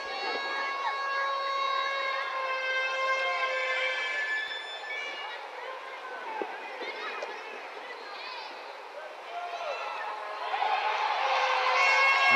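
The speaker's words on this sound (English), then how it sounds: "The crowd starting to get into it a little bit for the host nation" Stadium crowd at a women's under-20 soccer match between the Dominican Republic and the United States, a steady broad roar rising toward the end as the home fans build, with a whistle-like tone early on under a commentator's voice.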